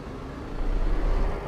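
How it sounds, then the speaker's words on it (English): A truck engine in Euro Truck Simulator, heard from the cab through a lowered window, gives a steady low rumble that swells louder partway through and then holds. "the more we put the window down, the more we'll hear the truck engine"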